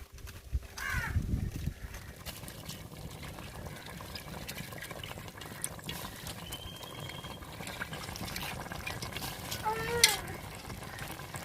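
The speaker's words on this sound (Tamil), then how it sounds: "இப்ப அரிசியை சேர்த்துக்குறோம்." Rice is stirred into sizzling mushroom masala in a pot for mushroom biryani, giving a continuous frying hiss with scraping and stirring sounds and a louder clatter near the end.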